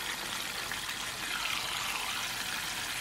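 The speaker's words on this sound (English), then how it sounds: "we are going to submerge the fish into the oil here" White perch fries in hot oil in a small pan, a steady, even crackling hiss close by with no pauses or voices.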